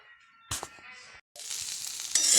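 Okra frying in a pan in a village home kitchen: a short clatter and thump, a brief pause, then a steady, fairly loud hiss and sizzle that grows brighter toward the end, with no talking.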